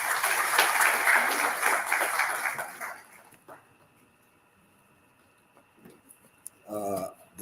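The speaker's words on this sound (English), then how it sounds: "Please a round of applause for him" Audience applause at a university inaugural lecture, fairly loud for about three seconds and then dying away into near silence, followed by brief room noises and a short burst of voice.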